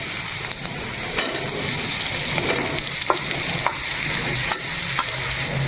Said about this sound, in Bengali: তো এবার আপেলটা ফোড়নে দিয়ে দিচ্ছি।